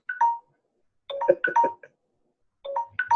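Phone notification chimes go off in quick clustered bursts, several short bright tones piling up, then a pause and another burst, fairly clear with no talking.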